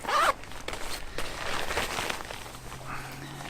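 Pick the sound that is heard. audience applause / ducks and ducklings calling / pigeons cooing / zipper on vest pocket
zipper on vest pocket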